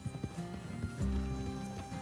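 Horse hooves clip-clop at a steady walking pace in Red Dead Redemption 2, close and moderately loud, with a low rumble swelling midway and no talk over them.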